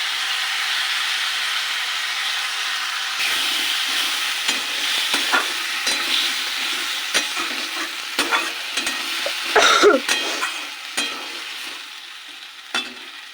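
Ground spice paste, ginger, tomato and green chilli frying in a pan for a fish and cauliflower curry. A loud hissing sizzle fills the first seconds, then eases into a quieter crackle broken by repeated sharp stirring scrapes and clicks.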